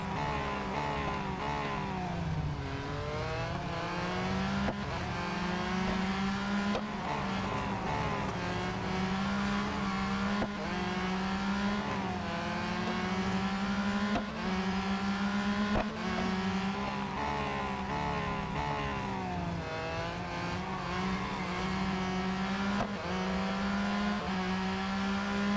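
Race car engine in the Real Racing 3 video game, a low-grip car that is hard to drive, droning steadily with repeated upshifts and revving, continuous and loud throughout with no talk.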